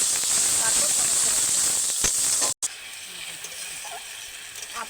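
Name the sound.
onions and tomato paste sizzling while frying in a pan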